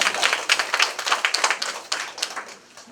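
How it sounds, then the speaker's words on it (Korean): Audience applause welcoming a guest at a neighborhood residents' general assembly, close, brisk clapping from a modest crowd with distinct individual claps, steady for a few seconds. "박수로 환영해 주시기"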